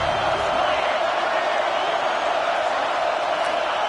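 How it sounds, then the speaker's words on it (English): A packed football stadium crowd roars steadily and loudly, trying to rattle the opposing offense, a dense continuous wash of cheering and yelling with an announcer's voice over it. "Listen to this crowd just shaking the girders of this place"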